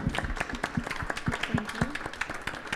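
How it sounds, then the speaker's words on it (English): Audience applause for panel speakers at a youth food-policy session, a few seconds of steady clapping with some crowd murmur mixed in. "Let's give them a round of applause."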